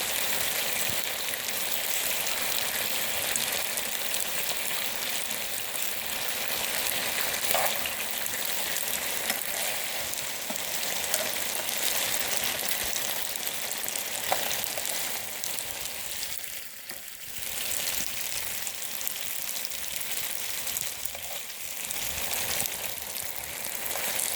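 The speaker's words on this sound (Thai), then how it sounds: "แต่ถ้าคุณชอบกรอบเทียมก็ ทอด ต่อไปเรื่อยๆนะคะจนน้ำแห้งดีแล้วค่ะ" Frozen Bibigo bulgogi dumplings fry in a pan with a steady, dense sizzle and crackle that holds for the whole stretch, close and fairly loud, with a brief dip partway through and no talking.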